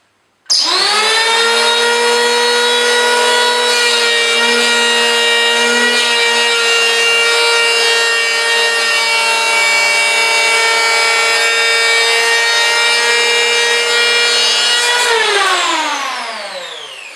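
A Hitachi P20SF electric planer runs steadily on wood for about fifteen seconds, a loud continuous whine with strong harmonics that winds down at the end, with no talking.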